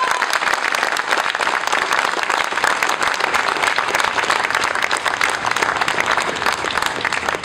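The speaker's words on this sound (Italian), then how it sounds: "Gli applausi, basta," Applause at an Italian political campaign rally rolls on dense and loud without a break, crowd clapping close and continuous, with no talk audible over it.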